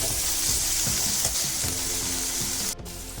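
Oil sizzling steadily in a pan while pasta ingredients fry before peas are added, a continuous close hiss with a brief dropout near the end.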